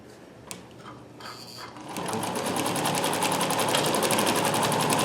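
A Dressmaker 2402 sewing machine starts up and stitches steadily, a loud, close, rapid mechanical clatter that runs on evenly after a few light clicks of handling.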